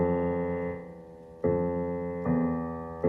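Opening of a well-known film theme on piano, played for beginners: sustained low chords re-struck three times at uneven intervals, ringing and decaying between hits, close and fairly soft with no voices.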